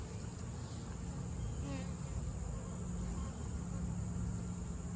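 Honey bees buzz densely around a hive with comb exposed beneath, a steady close swarm hum with individual bees flitting past, continuous and moderately loud.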